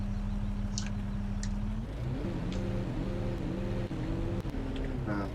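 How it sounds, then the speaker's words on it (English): A low tractor engine in a farming video game idles steadily, then starts up and revs in stepped pitch rises, a droning motor sound with a few faint clicks on top. "We've got tractors with sound now."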